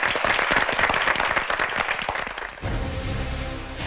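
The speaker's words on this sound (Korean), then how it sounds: "두 팀에게 박수 한번 부탁드릴게요." A studio audience at a high school debate competition applauds both teams, a loud burst of dense clapping that tapers off into quieter background sound after a few seconds.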